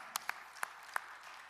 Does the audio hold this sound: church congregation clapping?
yes